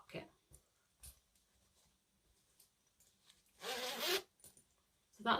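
A zipper on a handbag's inside zipper pocket is pulled in one quick, close rasp, with a second short zip at the end and quiet handling noises between.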